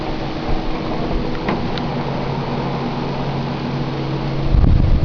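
Cooling fans on an overclocked PC running at full speed, a steady, loud broadband whoosh with a low hum, continuous throughout and rising slightly near the end.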